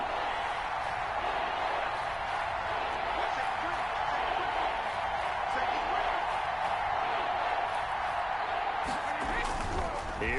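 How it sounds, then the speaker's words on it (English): A football stadium crowd roars in a steady, dense wall of cheering throughout, loud and sustained, with a few sharper whoops and claps near the end. "The crowd getting into it"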